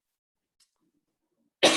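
A single sharp cough bursts out suddenly at the very end after near silence, close and loud.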